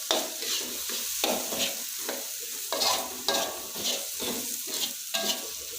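Spices and crushed ginger fry in a pan for chicken rica-rica ketumbar, with a steady sizzle under repeated scraping strokes of a spoon stirring, close and fairly loud, no talk.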